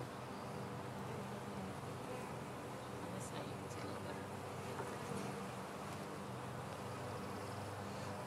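A dense honeybee swarm hums steadily and continuously, a broad close drone with faint wind noise and scattered soft sounds throughout.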